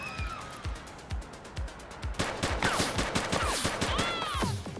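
Gunfire in The Precinct police video game: a steady rhythm of sharp single shots early on, then a denser burst of rapid overlapping shots with whistling, ricochet-like streaks, loud and close.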